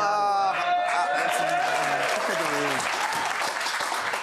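Audience applause during a Women's Rights Day sketch: a voice speaks over the start, then a sustained wash of crowd clapping takes over and continues steadily to the end.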